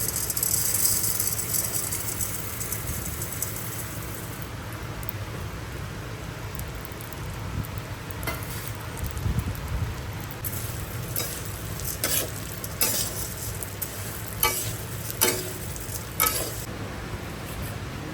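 Mango kernels sizzle and crackle steadily in hot ghee, with a stirring rattle and scattered sharp pops growing more frequent toward the end, close and moderately loud with no talking.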